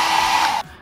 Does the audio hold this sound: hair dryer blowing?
yes